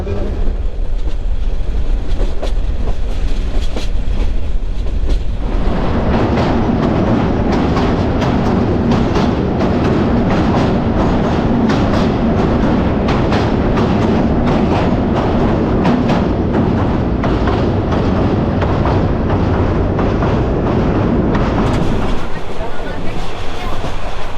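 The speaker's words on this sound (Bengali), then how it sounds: "আর আমরা আজকে যে ট্রেনে ভ্রমণ করতেছি" Jayantika Express passenger train running on the rails between Dhaka and Sylhet, a loud steady rumble of wheels and carriage with rhythmic clatter throughout, heard from inside the coach.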